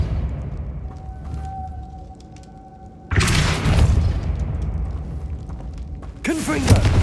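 A Depulso spell impact in Hogwarts Legacy lands as a sudden loud whooshing burst with a deep thud, followed by a second sharp swooping magical blast, all over steady game ambience.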